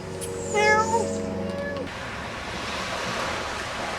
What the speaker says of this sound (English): There's some scruffy cat.